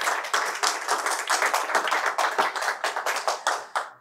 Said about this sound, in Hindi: आप लोग अपने लिए एक बार 2 ताली बजाइए।